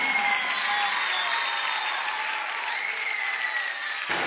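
Loud, dense applause from a live concert audience, sustained clapping with a little crowd noise for about four seconds before cutting off abruptly.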